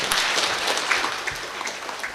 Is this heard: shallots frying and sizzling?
no